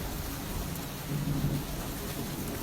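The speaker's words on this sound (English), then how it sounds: "Oh, it's a thunderstorm." A thunderstorm rumbles with low thunder swelling briefly over a steady hiss of rain falling on surfaces, moderately loud with no voices.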